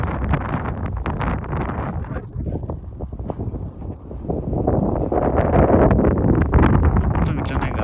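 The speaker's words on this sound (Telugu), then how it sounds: "ఘోరం అంటే ఘోరమైన గాలి అసలు." Strong wind gusts roar in a steady, broadband buffet against a microphone outdoors in Northern Australia during a motorcycle ride, swelling louder toward the end; a voice is faintly present under the noise.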